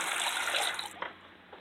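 Water running steadily from a tap in a home, a close hissing stream that cuts off about two-thirds through, leaving faint drips and room noise.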